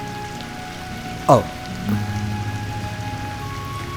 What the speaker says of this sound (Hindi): वो बारिश बहुत तेज हो रही है